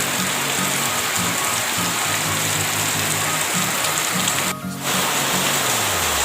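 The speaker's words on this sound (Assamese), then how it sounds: "ধাৰাসাৰ বৰষুণ" Heavy evening rain pours down steadily in a dense, loud wash of hiss, with a low engine-like hum beneath it and one brief sharper burst near the end.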